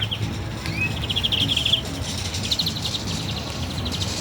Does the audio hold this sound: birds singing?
yes